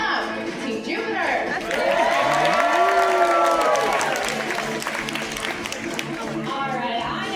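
An aquarium show crowd applauds and cheers for Team Jupiter, with steady dense clapping, rising whoops and whistles, and background chatter filling the space for several seconds.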